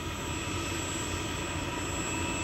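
A helicopter hovers over golf course construction, setting bridges in place. Its engine and rotor give a continuous, fairly faint roar with a thin high whine, steady throughout.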